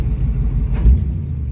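A 1971 Chevy Camaro engine runs close by at low revs, near overheating and ticking, giving a heavy, loud, steady rumble with a brief swell partway through.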